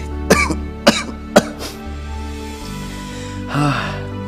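A person coughs three times in sharp, evenly spaced bursts, close and loud, followed by a quieter throat-clearing or breathy sound a couple of seconds later.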